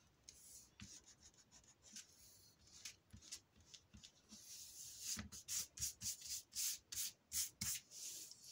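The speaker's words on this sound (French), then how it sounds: "On va gommer les points." Eraser rubbing out pencil dots on paper while making a mini album craft, heard as faint, close scratchy strokes, scattered at first and then a quick run of regular back-and-forth rubs toward the end.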